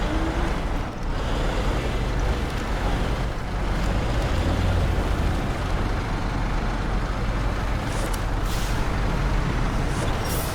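A heavy truck in the SnowRunner video game, in the Taymyr map, grinds on with a steady, loud low engine rumble while turning around over rocky ground, with brief hissing bursts near the end.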